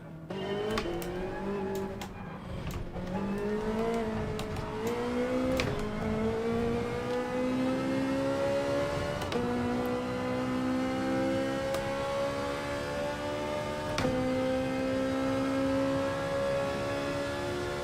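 Ferrari Group 4 race cars roar around Circuit de Catalunya in the Gran Turismo Sport game, a loud sustained engine whine climbing through gears with sharp shift breaks, no voices.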